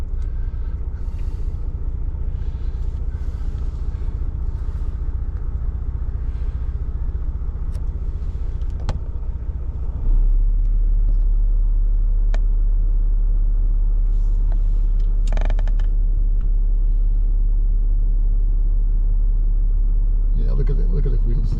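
Big adventure motorbikes riding through soft sand in South West Western Australia, a continuous loud engine rumble and revving with deeper low drone midway, occasional clicks and voices talking over it.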